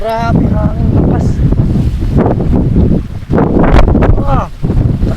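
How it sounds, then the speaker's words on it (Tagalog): Strong gusts buffet the microphone at a tilapia fishing pond, a loud rumbling roar that swells and dips, with excited voices talking over it. "Sobra naman ang lakas ng hangin."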